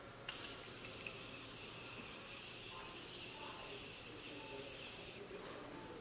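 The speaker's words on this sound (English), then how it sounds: "So now I'm going to set my face with Morphe setting spray." A steady hiss of Morphe setting spray misted over a face, beginning abruptly, holding continuous and close for about five seconds, then cutting off.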